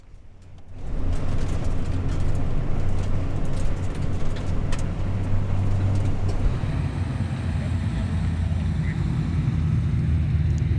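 Honda Prelude BB6 racing at the Weatherly hillclimb: a loud, steady engine roar that builds after a quiet first second and holds at high revs, with no pauses and a faint hint of voices mixed in.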